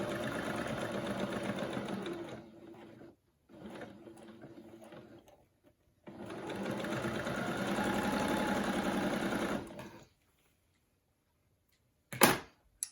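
A sewing machine stitches quilt patches in close, steady whirring runs, with a short pause and a second shorter burst before a long stretch of stitching, then silence and a sharp click at the end.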